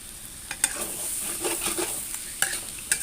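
Snake gourd is stir-fried in a pan with a sauce of fish sauce, light soy sauce, oyster sauce and sugar, giving a steady close sizzle broken by scraping strokes and a few sharp taps.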